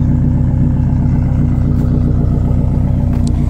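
A Subaru WRX fitted with an anti-lag setup idles with a loud, steady, lumpy engine and exhaust burble, close and continuous with no speech.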